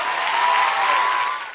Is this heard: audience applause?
yes